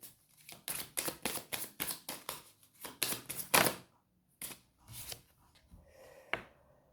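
Tarot cards handled during a reading, shuffled and drawn one by one: quick, crisp slaps and riffles in a steady run, then a pause and a few scattered softer flicks, close and fairly quiet with no voices.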